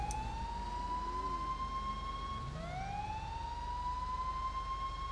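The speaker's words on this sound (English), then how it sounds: "Now you can turn off your siren for now." Wailing emergency vehicle siren in a police, special forces and EMS video game, a steady rising and falling tone that dips and climbs again partway through, close and loud over a low engine rumble.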